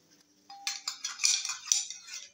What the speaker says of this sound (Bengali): বাটি আর চামচ বের করছে